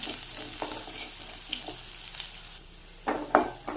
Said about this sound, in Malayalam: കുറച്ച് ചെറിയുള്ളി വട്ടത്തിലായിരുന്നത് ഇതൊന്ന് മൂക്കട്ടാൻ